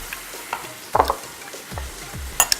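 Pepper steak sizzles and crackles in a hot pan while green peppercorns go in, with intermittent stirring scrapes and bursts of spitting fat close by.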